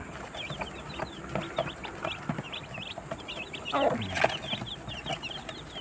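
Chicks and larger chickens cluck and peep together in a coop, with a near, busy mix of chirps and clucks and a brief burst of louder squawking and flapping partway through.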